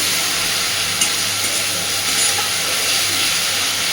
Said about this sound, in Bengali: রসুনের কাঁচা গন্ধ যাওয়া পর্যন্ত মশলাটাকে একটু ভালোভাবে কষে নেব।